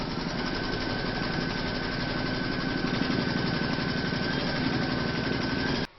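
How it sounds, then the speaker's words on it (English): An embroidery machine stitches a pineapple coaster in the hoop with a fast, steady mechanical whir and rapid needle rattle at a constant pace, then stops abruptly at the end. "then you're going to stitch round number 7"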